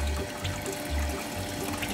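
Water runs steadily through a gold sluice box used to recover gold from black sand, a continuous trickling, rushing flow heard close and alone at moderate level.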